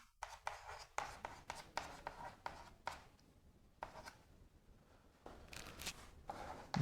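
Pen or pencil scratching across paper while notes are written out by hand, a run of short brisk strokes with brief pauses, close and fairly quiet, no talking.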